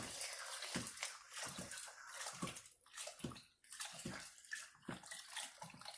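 Coconut milk is poured into a pot while being stirred with a whisk, making soft, close liquid sloshing and splashing in uneven surges, fairly quiet and without talk.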